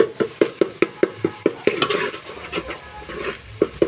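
A spoon stirs dal with tomatoes in a metal pot, knocking against the side in steady, evenly spaced clinks that later become softer and looser, with a light sizzle underneath.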